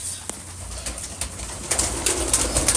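A large, sturdy pigeon coos softly, with low murmuring calls and a few light rustles and flutters nearby, fairly quiet and close.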